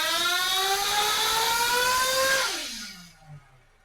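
A small engine, likely a model engine with an OS 2090 or OS 2100 tuned pipe, screams at high revs on a dyno during a clean-out run, holding a steady whine before the pitch drops away as it shuts down.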